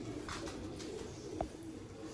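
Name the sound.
pigeon cooing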